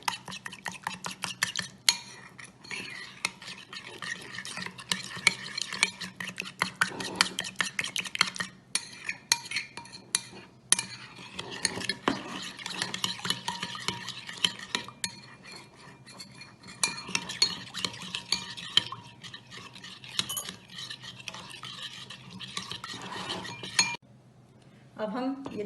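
Spice marinade of red chilli powder, salt, tikka masala and garam masala being stirred in a bowl, a steady run of spoon scrapes and light clinks against the bowl's side, close and continuous, with soft voice and kitchen noise underneath.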